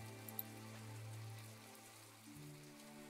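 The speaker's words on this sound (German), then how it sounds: "Boah, es regnet tatsächlich." Rain falls in the video game My Time at Portia, a faint steady patter under soft sustained background music tones, with no speech.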